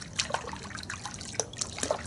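Water stirred by hand in a bucket with Chemical Guys Mr. Pink car wash soap, giving soft trickling sloshes and small splashes, close and fairly quiet, with no voices.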